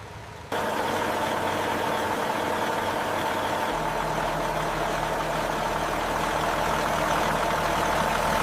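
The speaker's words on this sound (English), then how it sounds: "The mighty Detroit diesel engine ignites, filling the bay with its raw power." A Detroit diesel engine in a military ground vehicle bay starts up abruptly after a moment of quiet, then settles into a loud, steady, droning run with a deeper rumble joining partway through.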